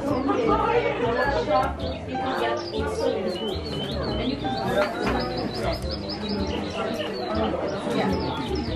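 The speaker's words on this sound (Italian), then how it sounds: "il cinguettio degli uccellini che viene proprio creato" Recorded birdsong chirps and tweets from speakers in a Lush perfume library shop in Florence, repeated high calls running steadily under someone talking and general shop chatter.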